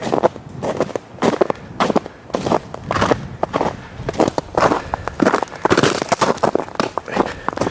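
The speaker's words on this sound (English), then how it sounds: "You can hear the" Dense crackling and snapping of ice-laden tree branches breaking during an ice storm, with rapid brittle cracks and crunches close by, mixed with footstep-like crunches throughout.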